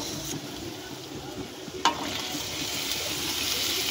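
Boiled potatoes frying with masala and melted tomatoes in a pan for Kashmiri aloo dum give a steady sizzle with soft stirring scrapes, and a brief sharp clink partway through.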